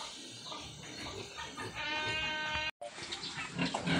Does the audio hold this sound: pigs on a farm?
yes